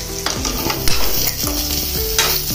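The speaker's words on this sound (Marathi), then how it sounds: "ही मी यात थोडी सोडणार आहे आणि पुन्हा एक 10 मिनिटं मी शिजवणार आहे आपले कारले" Bitter gourd simmers in a pan with tamarind-jaggery paste, stirred in repeated scraping strokes that give a rhythmic series of sharp, ringing scrapes over a constant close sizzle, with no voices.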